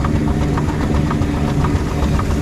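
A Foden C Type steam lorry running, a loud, close, steady low rumble with rhythmic chuffing pulses repeating through the whole stretch.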